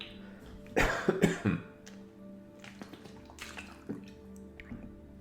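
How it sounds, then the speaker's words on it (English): A person coughs and sputters after choking on water, with a loud burst of coughs near the start followed by softer throat noises and faint splashing. "I was choking."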